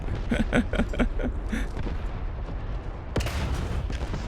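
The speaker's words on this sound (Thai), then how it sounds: "โอ้ยระเบิด" A single heavy explosion in a War Thunder tank battle hits suddenly and loudly after a stretch of muffled rumbling and clattering battle noise.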